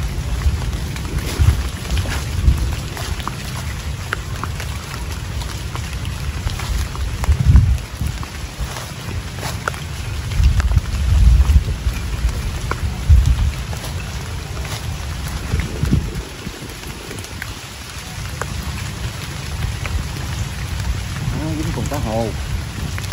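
Light drizzle falls on a riverside in the Mekong Delta while fishing nets are being pulled in. It makes a steady, soft hiss of patter, mixed with wind buffeting and a low rumble throughout.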